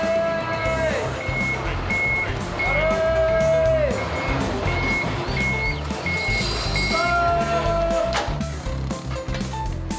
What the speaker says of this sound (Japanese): これが大型清掃車よ。